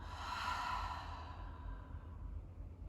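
A long, soft exhale out through the mouth during a yoga session, a breathy sigh that trails off gradually over a few seconds, close and quiet with no talking.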